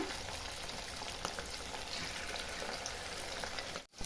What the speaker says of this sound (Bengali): মিডিয়াম ফ্লেমে চিকেনগুলো ভেজে নিব।